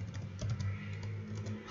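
Computer keyboard keys click in a quick, fairly steady run of taps, close and moderately loud over a low steady hum, with no speech.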